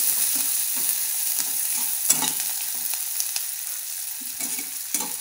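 Chopped onions frying with mustard seeds and cumin in a pan, a soft steady sizzle with intermittent stirring scrapes, close and fairly quiet, no one speaking.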